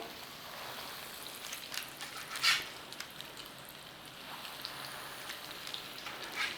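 Salmon cakes made from tinned salmon fry in hot oil, giving a faint, steady crackling sizzle with a few brief louder pops, and no talking.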